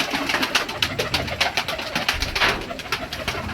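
Young pigeons of long-distance flying stock coo continuously in soft, repeated throaty bursts, close by and filling the space with no talk.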